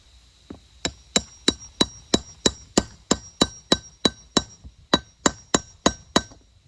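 Hammer striking a bearing to set it into a heavy-duty utility wagon wheel laid on a flat surface: about seventeen sharp metallic blows in a steady rhythm, close and ringing, with no talk.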